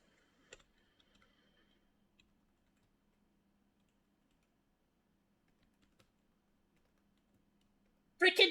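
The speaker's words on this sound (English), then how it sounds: "sorry, new keyboard." Typing on a new computer keyboard: sparse, faint key clicks and ticks scattered over several seconds in a quiet room, ending in a sudden loud burst of rapid clatter.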